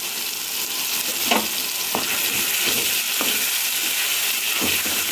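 Coconut chutney sits in hot tempering oil, giving a continuous loud sizzling hiss with a few soft scraping stirs breaking through now and then, with no voices.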